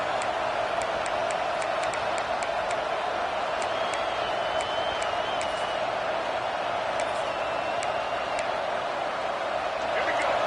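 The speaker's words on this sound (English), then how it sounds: "This crowd, full throat, splitting the eardrums and letting them know it's going to be a long day." A football stadium crowd roars with a sustained, dense wall of cheering and noise, with a few sharp whistles and shouts standing out above it.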